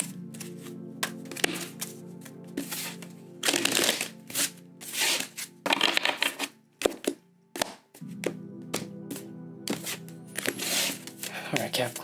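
A deck of tarot cards is shuffled repeatedly during a reading, with several rapid riffling bursts and papery slaps in uneven clusters, close and crisp, while a voice talks under a steady background hum.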